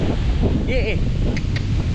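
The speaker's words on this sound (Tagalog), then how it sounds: "Kaya naman ang hangin, parang may bagyo" Strong wind buffets the microphone in a steady roar, with a faint bird chirp breaking through briefly.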